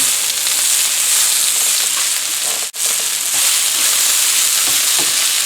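Potatoes, Hatch chile peppers and onions frying in a pan, a loud, close, unbroken hissing sizzle with a momentary dip midway, as if briefly stirred.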